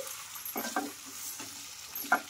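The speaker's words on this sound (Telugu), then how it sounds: "ఈ పాస్తా వేసిన తర్వాత కింద నుంచి బాగా కలిపేసుకోవాలి" Pasta being stirred with a spoon in a pan with spices, a few soft scraping and clacking strokes near the mic over a low sizzle, with quiet gaps between stirs.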